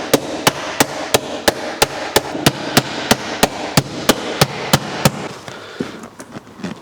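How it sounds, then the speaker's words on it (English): Sharp, loud hammer strikes hit a metal seat bracket on a Land Rover Defender, about fifteen evenly spaced blows in quick succession before a few quieter taps and shuffling at the end. "So we're just going to whack this bit with a hammer."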